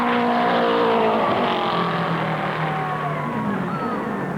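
A 1960 Indianapolis 500 race car roars loudly past at about 145 mph, its engine note sweeping and fading steadily as it goes by, with no one talking.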